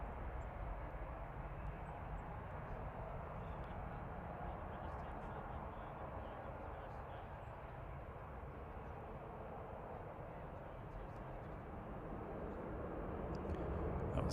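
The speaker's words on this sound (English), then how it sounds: "That was EasyJet there to Sharm El Sheikh" An EasyJet airliner departs Manchester Airport for Sharm El Sheikh, a faint, distant, steady engine rumble that swells slightly toward the end.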